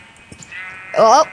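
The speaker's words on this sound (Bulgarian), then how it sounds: "Овца. Зомби овца. Две овци." A short, loud synthetic sheep bleat from Minecraft, preceded by faint background game sounds.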